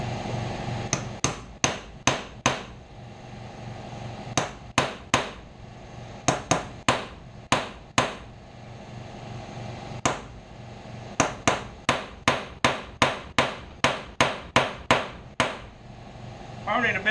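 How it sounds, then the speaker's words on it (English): Hammer blows driving rivets out of a winch part on a small anvil: sharp metallic strikes in quick bursts of several hits with short pauses, close and loud, at times with a voice faintly underneath. "We're gonna finish driving these rivets out"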